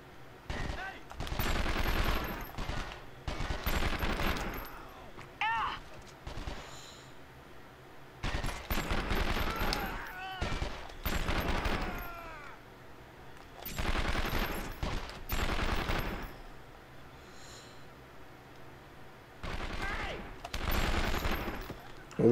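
Rapid bursts of automatic gunfire in the PlayStation 2 game 24: The Game. Loud volleys repeat in clusters of several seconds, separated by short quieter gaps.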